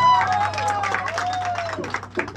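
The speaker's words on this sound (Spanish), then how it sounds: "Fuerte el aplauso para Sofía." Applause for the birthday girl Sofía at a Colombian youth mariachi birthday party, steady clapping with some cheering and crowd voices, loud and close, with talk mixed in.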